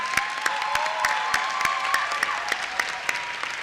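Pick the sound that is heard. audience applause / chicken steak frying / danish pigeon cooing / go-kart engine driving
audience applause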